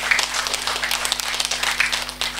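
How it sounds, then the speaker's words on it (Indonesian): A community gathering in Marisa, Pohuwato, Gorontalo breaks into scattered clapping, a modest audience applauding in uneven bursts over a steady electrical hum. "Oleh sebab itu tepuk tangan kita semua."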